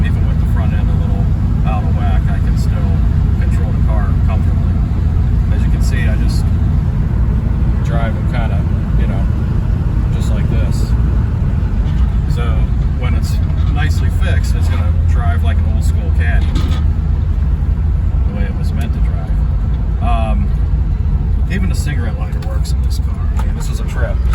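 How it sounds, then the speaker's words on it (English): A 36-year-old classic Mercury car cruises along a road with its engine running smoothly at light throttle, a steady low rumble throughout while someone talks over it. "I'm hardly even on the accelerator. It's just a nice running car."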